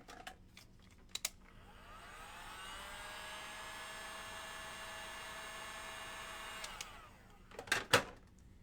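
A hair dryer whirs steadily for several seconds, drying fresh paint on a DIY decor and storage project, starting up and shutting off with a few clicks and knocks around it.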